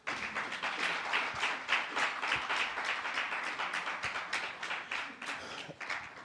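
A seated audience at a youth consultation claps steadily for several seconds, a dense, moderately loud patter of many hands at an even level throughout.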